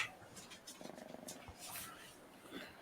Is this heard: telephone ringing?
no